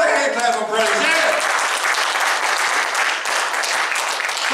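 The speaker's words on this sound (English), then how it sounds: "And give the Lord a hand clap of praise." Congregation at a church service breaks into a loud burst of hand clapping in praise, dense sustained clapping that fills the room and carries on steadily throughout.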